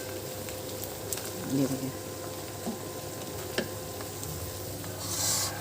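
Whole spices (cinnamon, cardamom, cloves and black peppercorns) sizzle steadily in a pot for palak gosht, with a few soft stirring scrapes throughout and a brief spoken voice over the frying.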